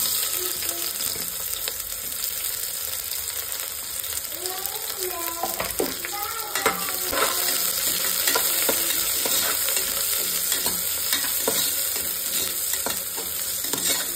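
Chopped onions with bay leaf, cloves and cinnamon frying in hot oil for chicken biryani, a continuous close sizzle broken by scraping stirs and light clinks of the spoon against the pan.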